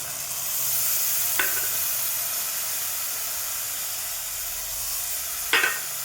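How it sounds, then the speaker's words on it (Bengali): A cumin, coriander and chili spice paste with ginger fries in oil in a pan for a fish curry, a steady hiss of sizzling with two brief sharp crackles, close and with no talk. "এবার মশলাটা যতক্ষণ না তেল ছাড়ে মশলাটা কষবে।"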